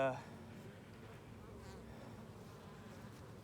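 Honeybees hum around an open hive while being moved into a nuc box, a continuous, fairly soft swarm drone that holds steady after a brief louder knock at the start.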